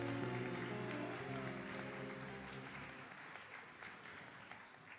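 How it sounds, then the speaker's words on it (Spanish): Applause for students at an academic awards ceremony, a dense sustained clapping from an audience that gradually thins and fades over a few seconds, with no voices. "Reiteramos entonces el aplauso para nuestros estudiantes."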